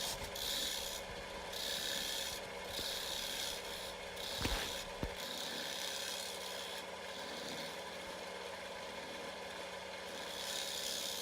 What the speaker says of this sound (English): I'm using a 1/8 inch parting tool to make the recess